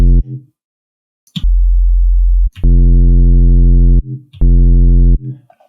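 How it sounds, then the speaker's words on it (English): Sub bass tones sounding almost like pure sine waves, played in loud sustained bursts of one to two seconds separated by short gaps, alone with no talk. "it sounds mostly like a sine wave"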